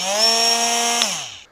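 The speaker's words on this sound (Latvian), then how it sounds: "Vectūro ir aprīkots ar soft start." A Festool Vecturo 18 cordless oscillating multi-tool spins up with its soft start, a loud close steady buzzing whine that holds briefly, then drops in pitch and fades as the motor stops.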